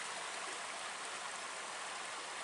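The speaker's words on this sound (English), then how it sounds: "the Swatara Creek runs through here" Swatara Creek, a trout-stocked stream along a rail trail, rushes steadily with a dense, even wash of flowing water, close and constant with no other sounds.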